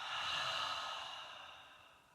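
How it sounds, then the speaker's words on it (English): A single slow, breathy exhale through an open mouth during a beginner yoga breathing exercise, soft and airy, starting fuller and fading gradually over about two seconds, with no talking. "Exhale, open mouth."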